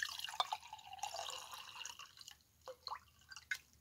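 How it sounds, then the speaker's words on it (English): Water being poured into a laboratory beaker, a thin trickle and splashing fill followed by a few separate drips near the end, close and quiet. "I'm going to take and pour 300 milliliters of water into my beaker"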